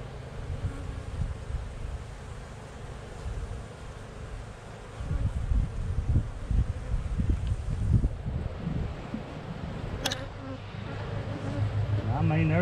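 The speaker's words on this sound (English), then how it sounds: "There are not a whole ton of bees in this hive." Honeybees buzz steadily around an open hive during an autumn inspection, a continuous low drone that grows denser midway, heard close with outdoor wind noise and occasional handling sounds.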